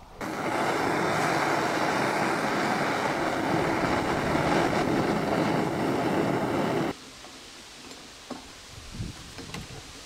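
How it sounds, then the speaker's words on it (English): A torch roars loud and steady while heating a small mold for pouring molten silver bars, then cuts off abruptly, leaving a quiet room with a few faint clinks. "So I have to heat up my little mold there with the torch"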